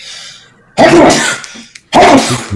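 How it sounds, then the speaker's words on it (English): A man lets out a loud, close sneeze, then a second forceful burst follows about a second later, both explosive and breathy against a quiet room. "I got to sneeze"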